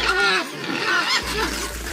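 Pigs on a farm in Tonga grunt and squeal in a loud, continuous jumble close by, with a brief voice mixed in among the animal noise.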